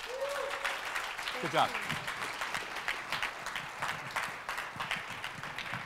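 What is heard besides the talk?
audience applause at a conference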